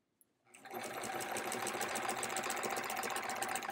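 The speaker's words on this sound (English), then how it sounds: "Sewing machine's shaking my table." A sewing machine quilting a quilt starts up and runs continuously at a fast, even rattle, close by and fairly loud, shaking the table, with no talking.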